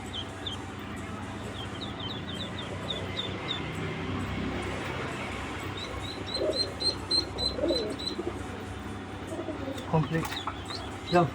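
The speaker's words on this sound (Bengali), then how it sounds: "মুরগিগুলো বেরোনোর জন্য পাগল হচ্ছে গাইজ" Chickens cluck and squawk restlessly, eager to get out, with repeated short calls near and fairly loud over a busy background; a person speaks at times.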